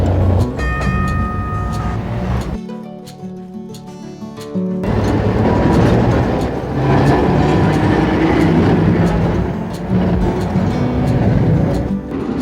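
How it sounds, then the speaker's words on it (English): A vintage electric trolley's motor hums and whines with a chugging rhythm while wheels clatter over track joints, with a brief quieter stretch midway before the rumble resumes. "Can hear that motor. Like chugga, chugga, chugga, chugga."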